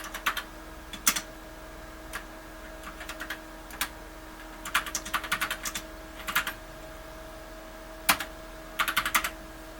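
Typing on an Ohio Scientific Challenger 1P computer keyboard, irregular bursts of close, clicky keystrokes separated by pauses over a steady electrical hum and hiss.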